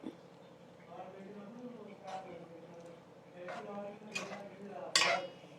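Coriander powder being stirred into a simmering fish curry, with a spoon clinking and scraping against the pot in scattered bursts, louder near the end, under a faint background hum.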